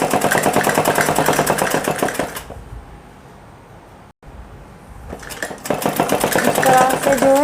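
Sewing machine running a thick seam along folded fabric for a hem on a girl's suit: two loud buzzing runs of rapid stitching separated by a quiet pause of a few seconds.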